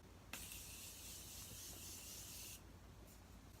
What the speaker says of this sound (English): I am going to spray some Morphe Continuous Setting Mist on this look to lock